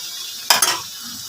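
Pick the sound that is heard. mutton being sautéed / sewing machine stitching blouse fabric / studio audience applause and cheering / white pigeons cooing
mutton being sautéed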